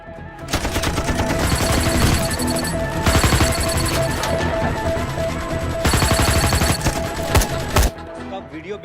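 Film-scene gunfire crackles in loud, rapid bursts of automatic shots, separated by brief pauses and layered with dramatic sound effects.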